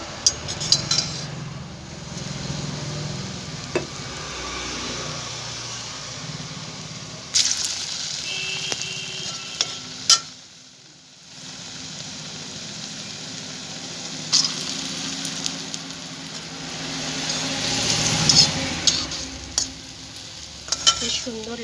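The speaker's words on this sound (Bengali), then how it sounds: "বড়াটা ভেজে দেবো" Masoor dal fritters (bora) sizzle steadily in hot oil in a wok, with a close, continuous frying hiss, occasional stirring and utensil scrapes, and brief quieter pauses.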